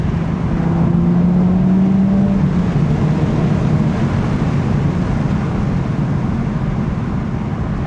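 An Audi TT RS drops a gear and accelerates hard with a loud, continuous engine roar, the pitch rising briefly early on before settling into a sustained drone, with no talking.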